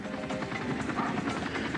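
A military helicopter flies overhead during a national holiday celebration, its rotor thumping as a steady broadband roar with no quiet moments.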